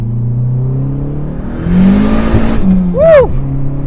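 Dodge SRT-4 with a big turbo accelerating hard in second gear, its engine note rising steadily and loud from up close, then breaking into a sharp turbo whoosh and flutter near the end.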